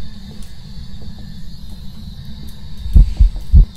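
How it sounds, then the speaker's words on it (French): A ghost heartbeat in the horror video game Phasmophobia, a few deep, low throbbing thumps that arrive late over a steady electronic hum, loud and close. "t'as entendu toi aussi, ça, j'ai eu un battement de cœur là"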